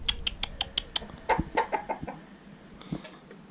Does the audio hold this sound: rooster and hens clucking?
yes